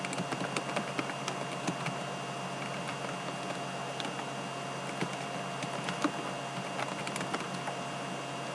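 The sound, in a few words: typing on a computer keyboard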